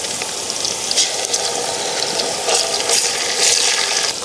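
Ginger garlic paste frying in a pan for a boti curry, a steady broadband sizzle and hiss that holds through the whole stretch, swelling a little louder toward the end, with no voices over it.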